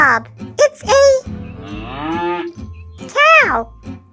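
A cartoon cow lets out several drawn-out, tonal moos close up on a farm, rising and falling in pitch, with a longer low bellow in the middle and a final bright moo.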